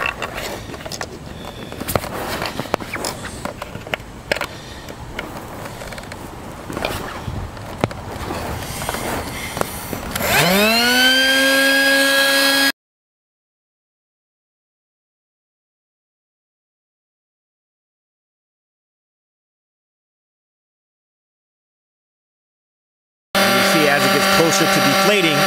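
A Coleman rechargeable quick pump switched to deflate runs with a steady, rising electric whine and airy rush, then drops out to silence before the motor hum resumes.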